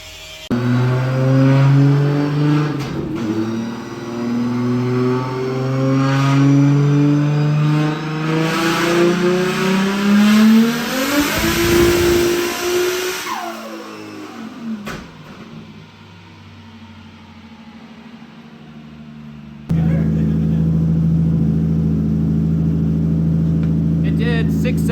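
An Audi race car engine revs hard on a dyno, pitch climbing steadily through a loud pull, then cutting off and dropping to a lower, steady drone.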